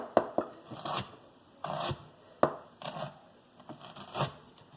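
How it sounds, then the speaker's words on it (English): A knife slices food on a cutting board in a steady rhythm of about six firm strokes, each a crisp thud on the board, close and clear with no talking. "Give that a nice thin slice."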